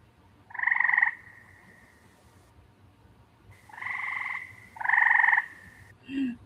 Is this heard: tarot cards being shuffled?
no